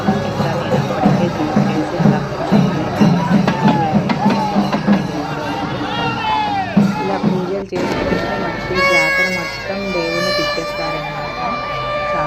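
Dense festival crowd at the Makara Sankranti Teppotsavam in Nellore, a loud continuous roar of voices and shouts with horn-like tones, close and unbroken throughout.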